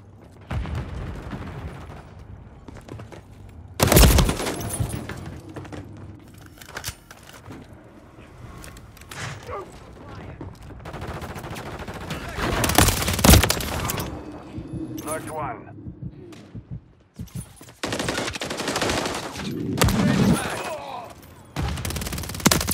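Gunfire in the video game Modern Warfare 3 comes in loud bursts and single cracks between quieter stretches, with mechanical clatter and game voices around it.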